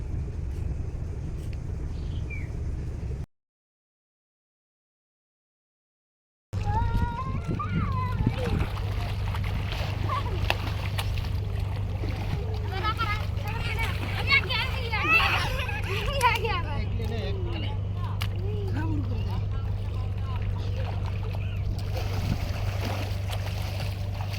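A steady low engine drone of ships moving in a line along a river runs throughout, with voices talking over it.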